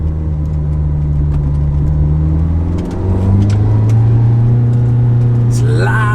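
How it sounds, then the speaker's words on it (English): A supercar's V8 engine mounted behind the cabin is heard from inside, a loud, steady low drone that rises in pitch as it revs, with little sound deadening and a voice talking over it. "You can just hear and see the V8 behind."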